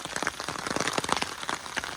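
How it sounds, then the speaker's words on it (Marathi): Steady rain falls in a rural village in May, a dense continuous patter of drops on surfaces, fairly close and without talk. "पाऊस पडतोय इथे"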